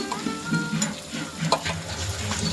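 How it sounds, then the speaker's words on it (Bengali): Spices frying in oil in a pan while being stirred, cooking for a vegetarian aloo paneer, give a continuous sizzle with intermittent scraping and clinking stirring strokes close by. "মশলা থেকে যতক্ষণ না তেল বেরোয় ততক্ষণ আমি মশলাগুলোকে খুব ভালো করে নেড়ে চেড়ে ভাজতে হবে"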